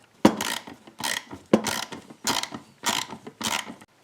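A ratchet snugs a bolt on a Chevy Colorado truck door, giving five or six quick bursts of clicking strokes with short pauses between them, close and clear with no talking.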